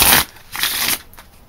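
A Blue LTD deck of playing cards is riffle shuffled up close, giving short bursts of rapid crisp flutter and snapping, two or three quick riffles in a row with no talk.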